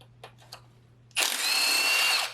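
A few faint clicks, then a power tool on a greasy Integra GS-R transmission bolt bursts into a loud, steady whir for about a second before stopping abruptly.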